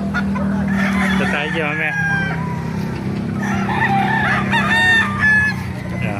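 A ten-month-old white Kelso rooster at the Bocaue market crows loud and close in harmonic-rich calls, with other fowl and people talking around it.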